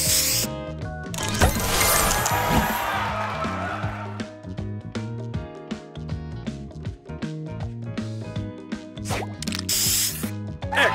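In a match puzzle game, a spray booster lets out bursts of hissing spray, one long burst early on and another short one near the end, over bouncy, plinking game music and small popping effects.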